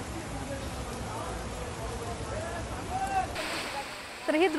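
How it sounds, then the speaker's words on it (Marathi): Heavy monsoon downpour on city streets in Pune, a steady broadband wash of rain and runoff that holds at a constant level, with faint distant whistles or calls near the end. "शहराच्या अनेक भागात मुसळधार पाऊस सुरू आहे"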